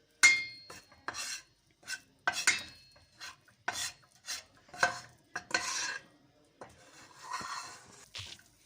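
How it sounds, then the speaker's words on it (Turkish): A milk dessert mixture of flour being stirred and roasted in a pan, with repeated scraping strokes in an irregular rhythm, close and fairly quiet, without talk. "3 dakika sürekli olarak karıştırarak kavuruyoruz"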